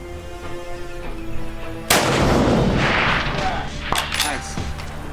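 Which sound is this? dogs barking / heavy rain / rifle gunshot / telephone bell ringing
rifle gunshot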